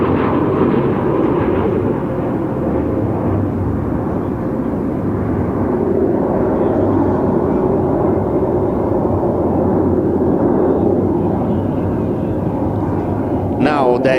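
Aerobatic aircraft climbing at the NATO Days and Czech Air Force Days air show, a steady loud engine roar and rumble filling the whole stretch without a break, with a brief sharp burst at the end.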